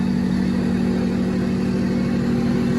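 A tuned BMW 535d diesel engine, DPF and EGR removed, runs steadily at high revs, a loud continuous droning rumble with no talking.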